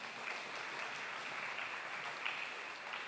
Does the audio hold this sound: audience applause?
yes